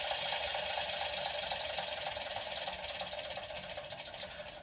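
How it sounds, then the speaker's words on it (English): Model train sound unit playing a diesel engine shutdown: a steady mechanical rattling engine drone that slowly fades and loosens toward the end, heard alone at modest level. "the diesel engine will shut down realistically"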